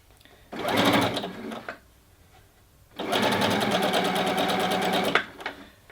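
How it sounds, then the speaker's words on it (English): A sewing machine stitches fabric tiers of a dress in two bursts, a short run followed by a longer steady whir, close and clear with a brief pause between. "So just go ahead and start stitching."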